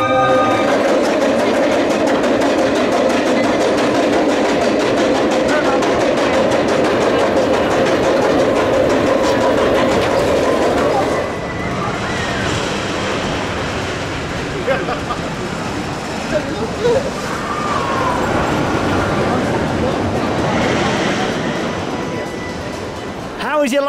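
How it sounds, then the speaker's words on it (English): The Big One roller coaster at Blackpool Pleasure Beach, the UK's tallest, ridden in the dark: a loud, continuous rumble and clatter of the train on its track, easing partway through and then building again, with voices heard over the noise. "Let's go on the big one, and we'll see when we come off the UK's tallest roller coaster in the dark."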